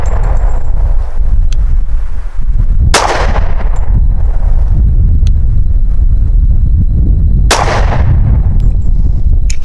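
Two loud, sharp gunshots from an American Classic Commander 1911 pistol firing 185-grain ammunition outdoors, spaced several seconds apart over heavy, rumbling wind noise on the microphone.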